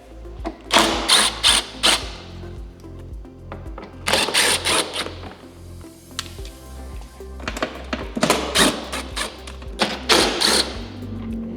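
Torx T25 screws being driven out of a 1998–2013 Harley-Davidson fairing with a power screwdriver: several bursts of close, buzzing whirring separated by short pauses, with light clicks and handling noise between them.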